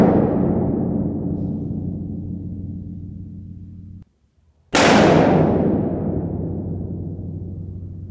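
A gunshot fired indoors, heard twice as loud sharp cracks, each followed by a long decaying room reverb tail, with a brief silence between the two.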